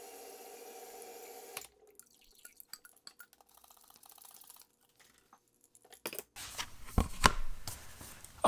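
Ceramic slip is poured into a plaster mold to cast a tiki mug; after several seconds of quiet clicks and handling noises, a fairly soft, steady liquid pouring sound begins and runs to the end.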